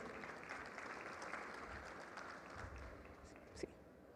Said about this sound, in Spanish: Fuerte aplauso para él también